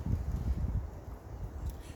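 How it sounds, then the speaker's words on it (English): Wind gusts outdoors on a bright day, a low fluttering rumble across the microphone that rises and falls in soft bursts, with no talking. "It's very windy. I don't know if you can hear it."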